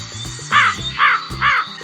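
Three loud, harsh crow caws spaced evenly about half a second apart, ringing out over a steady background music track.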